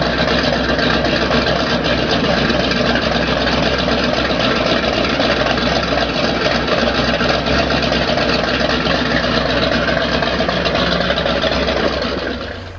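Supercharged trike engine running steadily, a loud, close, continuous engine drone with a deep low rumble that holds even throughout and cuts off at the very end; no talking.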